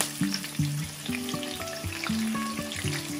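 Mustard seeds, curry leaves, chillies and peanuts fry in hot oil for poha, with a steady close sizzle and scattered sharp pops and crackles, joined by clanking stirs against the pan.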